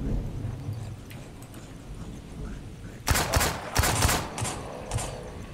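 Gunfire in the survival video game Miscreated, a quick volley of sharp shots after a calmer stretch, loud and close with a few scattered follow-up bangs.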